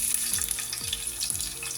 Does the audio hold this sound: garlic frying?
yes